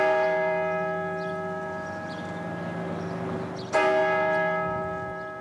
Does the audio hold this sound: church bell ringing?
yes